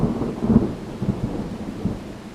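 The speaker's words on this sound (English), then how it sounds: "all he heard was rain and some very loud thunder" Rain falls steadily during a thunderstorm while loud, deep thunder rumbles in several rolling swells. Together they form a continuous low roar with no voices.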